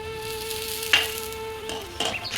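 A fenugreek (methi) dish frying in a pan gives a steady close-up sizzle, with a couple of brief scraping or stirring bursts partway through.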